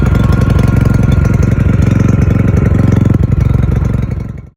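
Simulated engine sound as heard facing the exhaust, a loud, steady idling drone with a rapid regular firing pulse and rich low harmonics, running alone for about four seconds before cutting off.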